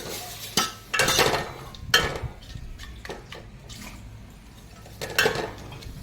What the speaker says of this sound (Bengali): মাংসগুলো হালকা নেড়ে নেব।